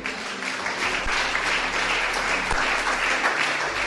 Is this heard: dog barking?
no